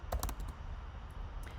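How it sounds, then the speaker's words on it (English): Typing on a computer keyboard, a quick close cluster of key clicks followed by a few scattered taps. "Not good at typing today, am I?"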